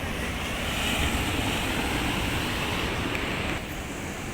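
Rough monsoon surf breaks steadily at Azhithala beach where a river meets the sea, a continuous loud roar of waves mixed with wind buffeting the microphone, with no speech.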